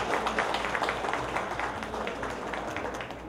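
A sustained wash of applause and clapping from a large audience in a hall, greeting a singer-songwriter at a community event; dense and steady throughout, with no voices over it.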